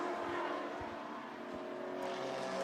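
A BMW GT4 race car passes at Monza, its engine note swelling steadily through a broad, continuous roar amid other circuit noise, with no voices over it.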